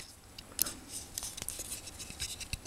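Leatherman Wave multi-tool scissors cutting, faint close snips and scratchy blade sounds scattered irregularly over a quiet hiss, with no talking.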